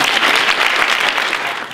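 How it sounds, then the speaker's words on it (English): Steady, dense audience applause fills a room at a retirement dinner, many hands clapping at an even level for the whole stretch with no voices over it. "So thank you guys for your applause"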